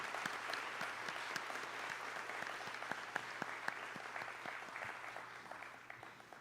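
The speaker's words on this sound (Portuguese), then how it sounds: "eu peço uma salva de palmas a todos" Audience applause at a solemn award ceremony, steady distant clapping from a large room with sharper individual claps standing out, holding evenly before tailing off, over a low hum.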